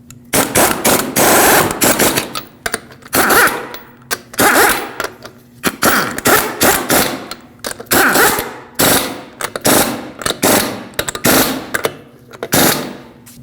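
A power tool spins lug nuts onto the wheel of a 2006-2015 Lexus IS250 during a rear caliper job, giving loud, close, repeated bursts of rattling impact whirring separated by short pauses.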